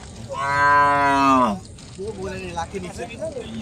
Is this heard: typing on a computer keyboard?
no